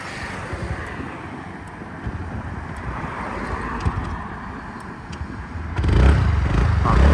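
A TVS Ntorq 150 scooter engine starts and runs as a steady low rumble mixed with wind noise, swelling noticeably louder and closer near the end, with no talking.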